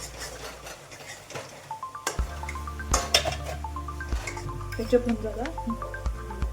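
Coriander being stirred into pasta in oil in a pan for a pasta recipe: a spoon scrapes and clinks against the pan with light sizzling, irregular metallic knocks and a low hum beneath, fairly close.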